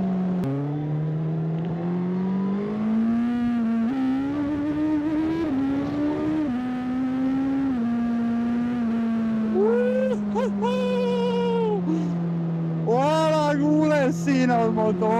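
A sport tourer motorcycle with a quick shifter gives a loud, steady engine drone that climbs slightly and then holds, with someone talking over it toward the end.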